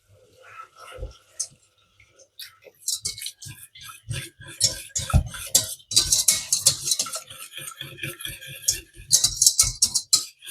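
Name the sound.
stirring milk into flour mixture for chicory gratin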